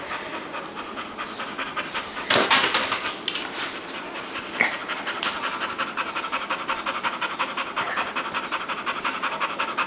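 Rapid, rhythmic dog panting close by, continuous throughout, with a couple of brief louder bumps and rustles.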